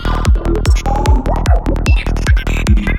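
Serum synthesizer patch from the Psyche Volume 2 preset pack: a loud, driving psychedelic sequence of punchy kick-like hits with sharp downward pitch sweeps, buzzy tonal stabs and bright top, steady and relentless for the whole stretch.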